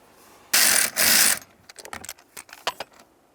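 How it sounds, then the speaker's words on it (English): A ratchet wrench loosens a bolt on a 2006–2012 Toyota RAV4 intermediate steering shaft with two rapid clicking bursts, then lighter metallic clinks and scrapes as the bolt is backed out, close and alone. "Fully remove that bolt."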